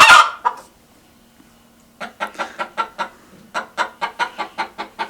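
A broody hen clucks angrily in a run of about a dozen sharp, rhythmic clucks that come close and loud after a brief louder squawk and a quiet pause.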